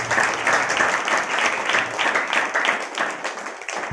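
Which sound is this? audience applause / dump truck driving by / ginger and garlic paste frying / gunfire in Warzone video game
audience applause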